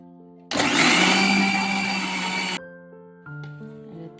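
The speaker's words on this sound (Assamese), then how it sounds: "কণী আৰু এই মই মিক্সি বাতিত দি এইখিনি ফেটি ল'ম ভালকৈ" An electric mixer grinder whirs loudly, beating eggs with refined oil, running steadily for about two seconds before cutting off, with lighter kitchen sounds around it.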